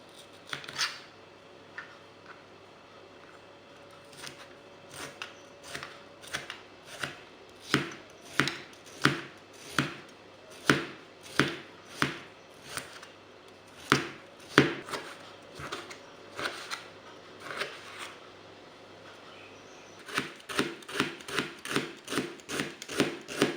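A knife chops vegetables on a board in a steady series of sharp, close taps, pausing briefly before a faster burst of cuts near the end, with no talk.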